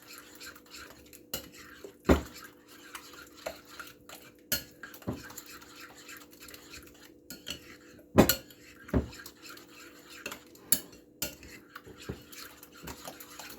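Lemon ricotta muffin batter stirred in a bowl, with scattered clinks and taps of a utensil against the bowl over a soft scraping, near and fairly quiet, with no talking.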